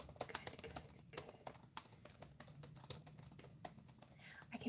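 Quiet, close typing on a computer keyboard during a relaxed ASMR session, with a steady patter of soft clicks and taps at an uneven pace and occasional louder keystrokes.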